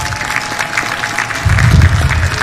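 Crowd applause at a Mashujaa Day 2024 national ceremony in Kenya, a broad outdoor clapping wash that swells louder partway through over a low rumble, with no speech.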